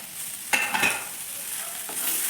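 Mushroom manchurian sizzles in a pan as chopped coriander is stirred in. A steady frying hiss runs throughout, with a few brief, close spoon scrapes near the start.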